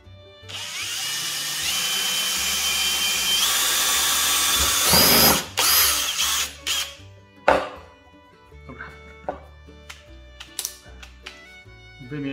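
Power drill boring holes in wood to make a mason bee house: a long, loud whine with several seconds of steady drilling, then short bursts and scattered knocks and clatter of the wood and tool.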